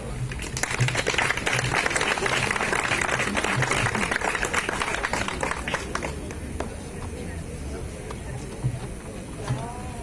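Dense, steady crowd applause fills an award ceremony at a Serbian mountaineers' gathering marking a club's 75th anniversary, holding strong for several seconds before thinning out, with some background voices.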